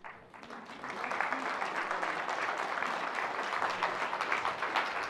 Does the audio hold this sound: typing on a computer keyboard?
no